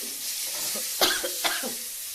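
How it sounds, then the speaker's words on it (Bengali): A few close coughs, set off by strong chili fumes during cooking, break over a steady pan sizzle. "লঙ্কাটা খুব করেই গেছে, ওই জন্য কাশিটা এলো"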